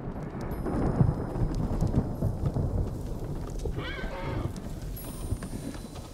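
Horse hooves clip-clopping in the video game Ghost of Tsushima, a steady low rumbling trot mixed with ambient game sound, with a brief whinny-like cry partway through.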